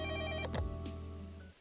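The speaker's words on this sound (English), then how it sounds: "we're thankfully interrupted by the phone ringing" A telephone rings in the visual novel Fate/stay night, a faint, steady electronic trill that fades out after about a second and a half, with a brief soft thump partway through.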